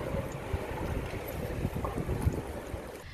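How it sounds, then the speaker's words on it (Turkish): Strong storm wind gusting in Karabük under an orange weather warning, a steady loud roar of buffeting air and microphone rumble with no talk. "Karabük'se etkili olan kuvvetli rüzgar vatandaşlara zor anlar yaşattı"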